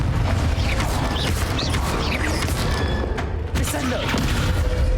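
Confringo blasting spell detonating in Hogwarts Legacy: booming fiery blasts and thuds repeat over a dense, loud game soundscape, with a voice calling out spell names alongside the action.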